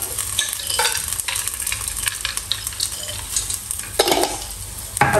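Grated coconut and cashews frying in a pan give off a steady close-up sizzle, broken by repeated scraping stir strokes and a few louder clatters near the end.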